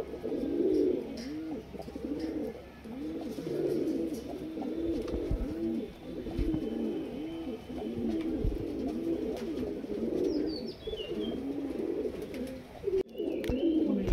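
A pair of red high flyer pigeons coo in steady repeated throaty calls, close by and continuous throughout, with a faint high chirp from another bird.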